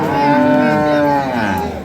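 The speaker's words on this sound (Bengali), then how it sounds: "দেখছি এখানে একটি গরু" A dairy cow at a cattle market gives one loud, close, drawn-out moo lasting nearly two seconds.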